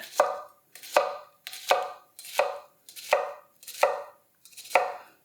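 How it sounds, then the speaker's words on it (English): A sharp chef knife slicing laterally through an onion on a board, seven crisp, evenly spaced cuts in a steady rhythm, close and clear with no talking. "one of the sharpest knives for right onion lateral cuts so far that I've ever used"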